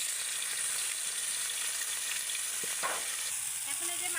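Bean flowers, potatoes and snakehead fish skin fry together in a pan, giving a steady, close, hissing sizzle with a few faint clinks of a utensil. No voices.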